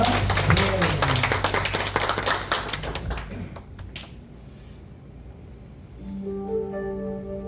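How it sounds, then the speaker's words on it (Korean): Loud sustained applause from a church congregation, fading after a few seconds into quieter room sound with a sustained tone. "우리 하나님 앞에 박수 한번 드리겠습니다"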